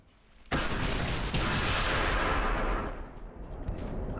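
Warship secondary guns firing in the naval video game Ultimate Admiral: Dreadnoughts: a sudden loud, booming roar of cannon fire that rumbles for a few seconds, then fades into a low battle din.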